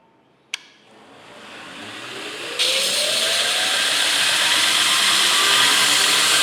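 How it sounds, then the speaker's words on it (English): A belt grinder clicks on and its motor whines up to speed, then a harsh, steady grinding rises as a clean bevel is ground into a metal part, loud and close. "I'm just going to use the belt grinder to work on this"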